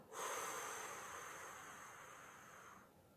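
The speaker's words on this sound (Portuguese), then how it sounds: "Vou inspirar. Vou expirar." One long, slow exhalation as part of a calming breathing exercise, close to the microphone, an airy rush that fades out after about two and a half seconds.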